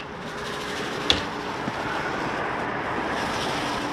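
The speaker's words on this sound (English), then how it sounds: "It's a little windy today" Steady outdoor wind rushing across the microphone beside a Jayfeather X17Z camper, a continuous broad roar with a couple of small knocks early on.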